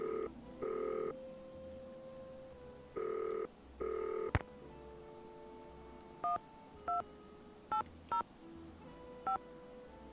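Telephone keypad dialing tones from the 2006 Nancy Drew video game Danger by Design: two longer tone pairs, then a quick irregular run of short beeps, clear and close with no talking.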